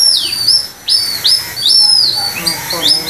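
Shrill, rising whistled chirps repeat in quick separate bursts, a bird call imitated on a bamboo instrument, loud and close.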